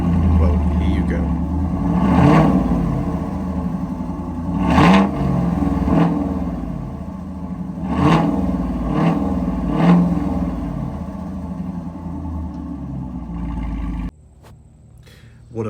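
An Overfinch Land Rover Defender 110 V8 revs repeatedly, loud and close, with several sharp throttle blips over a rumbling idle. A voice speaks briefly near the start before the engine cuts to quieter idle near the end.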